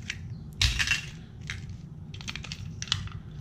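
A 9mm Canik pistol magazine is pushed into a universal mag pouch, producing close, scraping plastic-on-fabric rustles with a firmer crunch near the start and a few light clicks as it seats.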